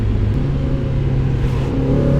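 A Mazda Miata NB fitted with a Flyin' Miata kit is at full throttle, its engine droning steadily and loudly with a rising tone as the car pulls. No voices are heard.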